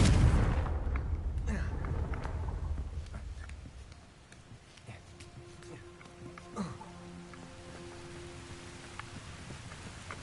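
Confringo spell blasts in the Hogwarts Legacy video game: a loud booming explosion opens and rumbles away over several seconds, followed by fainter pops and scattered crackling effects.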